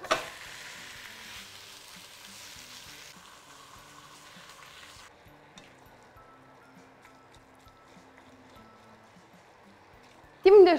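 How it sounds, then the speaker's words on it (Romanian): Minced meat frying in olive oil in a pan while lasagna is being made, giving a steady soft sizzle that fades gradually, with a louder burst at the very end. "o să mai adaug puțin ulei de măsline și carnea"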